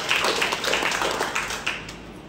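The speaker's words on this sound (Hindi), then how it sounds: "हमारे आदित्य सर हैं, इनके लिए भी बार जोरदार ताली।" Scattered clapping from an audience at a gathering, with a few sharper close claps standing out over a moderate, steady patter for a couple of seconds.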